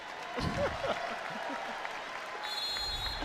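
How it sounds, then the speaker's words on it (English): Crowd applause fills a college basketball arena at a Gonzaga vs South Dakota State game, a steady wash of clapping from many spectators with a brief voice near the start. "Round of applause for Ejim as she gets her shoe taken care of."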